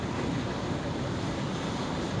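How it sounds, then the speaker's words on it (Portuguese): Strong wind buffets a parked car, heard from inside as a constant loud rushing roar with heavy low rumble and no pauses or distinct gusts. "é o vento balançando o carro"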